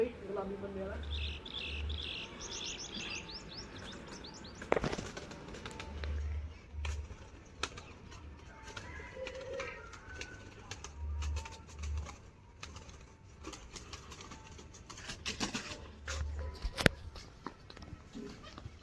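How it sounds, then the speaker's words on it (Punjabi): Pigeons coo softly in low repeated bursts, with a few sharp flaps and clatters as one lands on a rooftop perch, some chirps, and faint voices in the background. "ਪੱਲੇ ਵਾਲਾ ਕਬੂਤਰ ਬਹਿ ਗਿਆ ਬਈ ਛਤਰੀ ਤੇ"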